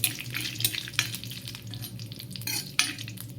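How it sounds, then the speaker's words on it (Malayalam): Mustard seeds, dried chillies, cumin, curry leaves and fenugreek tempering in coconut oil for a buttermilk curry: a close, crackling sizzle with stirring scrapes and a few sharp pops, no talking. "ഇത് വെളിച്ചെണ്ണയിൽ കടുക്, ഉണക്കമുളക്, ജീരകം, കറിവേപ്പില, ഉലുവ ഇതെല്ലാം കൂടി"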